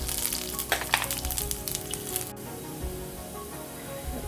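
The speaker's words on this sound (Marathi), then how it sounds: "बारीक चिरलेला लसूण घालते" Finely chopped garlic hits hot oil already crackling with mustard seeds and cumin for a Malabar spinach dal, giving a loud, dense sizzle with sharp spits early on before settling into a steady, softer fry.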